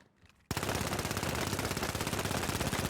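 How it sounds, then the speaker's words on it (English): After a brief quiet moment, the M11 in the game The Finals opens up in sustained rapid automatic fire, a dense, loud, continuous stream of shots that carries on to the end. "if you take a weapon like M11, for example, this gun has horrible recoil"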